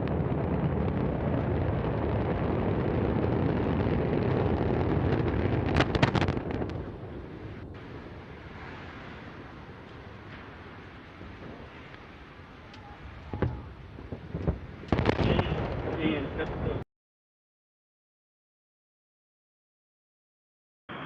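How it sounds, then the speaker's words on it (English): An Antares rocket carrying a Cygnus cargo craft lifts off with a deep, rumbling roar that crackles and bursts, fades into a distant low rumble, swells again, then cuts to silence. "And we have liftoff of Antares, the orbit 3 mission, delivering Cygnus on its third CRS mission to the ISS."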